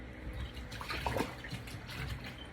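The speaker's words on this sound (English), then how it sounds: "So here's the water. Wash it. Just plain water, right?" Plain water splashes and swirls over peeled breadfruit being washed by hand in a pot or basin, a steady, soft wash of water sounds with no voices.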